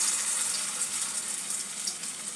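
Poppy seed fritters (posto bora) sizzling in white oil, a steady bright crackling hiss, even and continuous, with no talk.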